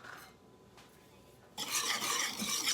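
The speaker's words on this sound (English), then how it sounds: "Go stir that around" Steak fajita mixture is stirred in a pan, a quiet scrape at first, then a sudden loud burst of bright sizzling and rasping stirring that carries on close up, with no speech.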